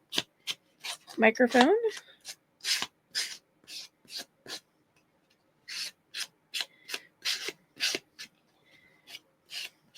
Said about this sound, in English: Mr. Sanding Block. Do the sanding under the table